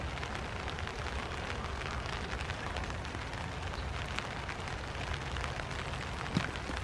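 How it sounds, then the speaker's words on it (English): Steady rain falls on a forest hammock campsite overnight, a dense, even patter that runs the whole time with no voices and one brief louder knock near the end. "it is raining"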